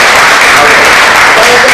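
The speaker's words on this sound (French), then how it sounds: "j'aimerais qu'on applaudisse encore très fort pour lui" Loud audience applause at a live music event, a dense continuous clapping burst lasting under two seconds, close and full with some crowd noise mixed in.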